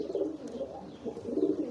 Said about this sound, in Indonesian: Nah ini nih merpati saya.